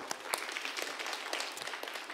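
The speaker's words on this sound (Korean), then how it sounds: "박수 한번 주세요." A church congregation at a Wednesday youth worship service at Yeouido Baptist Church claps together, a faint, dense patter of many hands that is steady across the moment.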